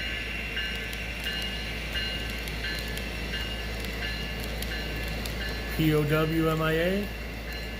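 An HO scale model train runs on a layout in a steady mechanical rumble, and a rising and falling electronic horn or chime sounds near the end.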